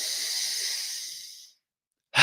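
A long, deep breath during a breathwork exercise, a steady airy hiss that fades out over about a second and a half, then silence before another breath begins sharply at the end.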